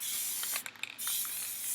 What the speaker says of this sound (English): And you just want to spray your area.